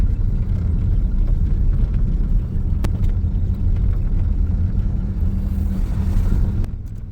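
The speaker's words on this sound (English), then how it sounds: "Just a loader headed to work." A wheel loader drives along a road in winter, its engine a steady loud low rumble that stays constant throughout, with a couple of faint clicks on top.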